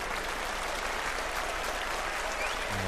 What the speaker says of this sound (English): Round of applause, bit of respect there from Chris Dobey